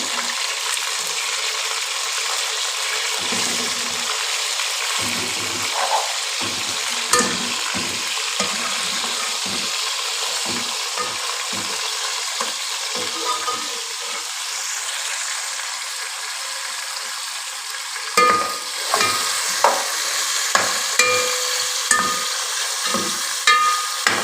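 Small, finely cut chicken pieces fry with spices in a pan, giving a continuous hissing sizzle broken by repeated scraping stir strokes and clinks, busier toward the end.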